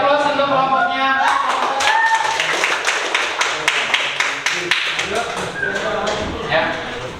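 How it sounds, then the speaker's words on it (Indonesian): Classroom applause breaks out for a student group about to present, a burst of many hands clapping fairly close, sustained for several seconds and tapering off, with a voice speaking briefly at the start. "Dari aplaus untuk kelompoknya"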